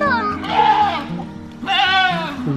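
A goat bleats twice nearby, two loud, wavering cries separated by a short pause, heard outdoors during a morning walk.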